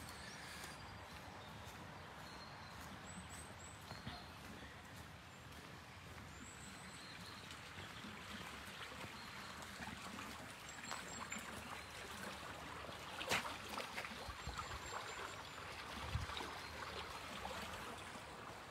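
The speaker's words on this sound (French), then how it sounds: "il y a pas mal de ruisseaux" Small streams flowing through Saint-Savin park, a soft, steady trickling murmur heard at a distance, with faint high chirps above it.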